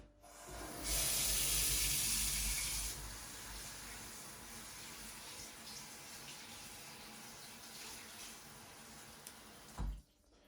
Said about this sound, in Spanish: Ahora vamos a echar agua.